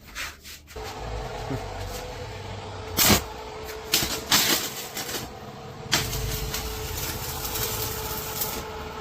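A 400-volt welding machine running for heavy work with 8-gauge rods, giving an uneven crackling and rasping buzz over a steady hum, with several louder bursts of sparking noise.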